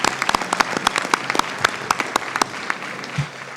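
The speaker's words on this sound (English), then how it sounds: "I think our Mighty Hounds need another round of applause of a great job they did this year." Audience applause fills a school board meeting room, a scattered round of distinct claps from a modest crowd that thins out toward the end.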